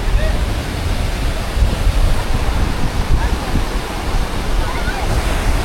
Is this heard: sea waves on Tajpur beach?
yes